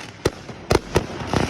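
Fireworks go off outdoors in a quick series of four or five sharp pops and crackling bursts, close and fairly loud, spread over about a second and a half.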